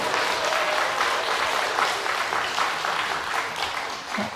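A congregation claps warmly during a Sunday church service, a steady dense wash of applause that holds for several seconds before tapering slightly.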